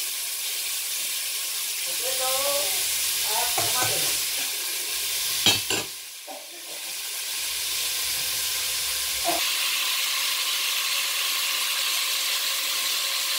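Tomatoes sautéing in a pan for a beef soup with ginger: a continuous steady sizzle and hiss with a few brief clinks and scrapes partway through, and no talking.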